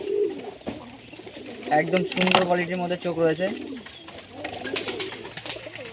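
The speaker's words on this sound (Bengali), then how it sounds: "আর এই হলো স্ট্যান্ডিং পায়রা" A standing pigeon, a fancy breed, coos close up in repeated throaty rolling phrases that rise and fall over several seconds, while someone talks over the calls.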